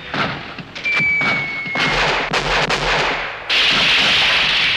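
Deep booming artillery blasts thud repeatedly amid a dense, noisy war-film battle soundscape, with a high whine and rushing debris, loud and close.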